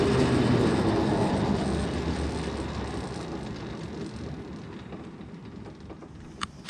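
A go-kart wheel spins freely on oiled ceramic bearings, giving a whirring rush that slowly fades as it spins down over several seconds, ending with a small knock.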